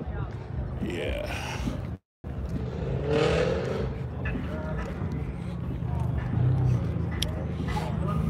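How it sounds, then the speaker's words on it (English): A car with a Hemi engine revs at a car meet, a deep, steady engine rumble running under people talking, with a short dropout partway through. "Uh-oh, somebody's revving a Hemi."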